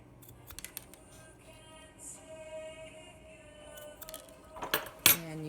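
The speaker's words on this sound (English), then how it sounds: "So now what we have left to do is to snip both ends." Quiet, close snips of scissors cutting the ends of a paracord bracelet, a few sharp metallic clicks scattered through the stretch, with a louder cut near the end.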